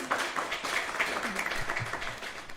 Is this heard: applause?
yes